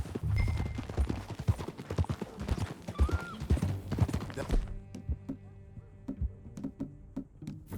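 Horse hooves clip-clop at a steady riding gait in Red Dead Redemption 2, rhythmic and close, with a brief whinny and faint background game ambience, then thinning to scattered hoofbeats.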